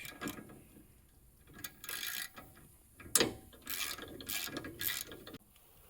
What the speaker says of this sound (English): first things first, pull this bolt off, and that'll let us get the pin out